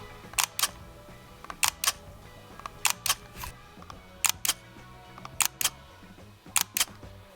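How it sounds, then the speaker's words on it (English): A Fujifilm X-E1 mirrorless camera fires its mechanical shutter in close, crisp clicks, mostly in pairs, repeated about six times at irregular intervals over a quiet room. "I love the mechanical shutter sound and how the camera feels when you take a photograph."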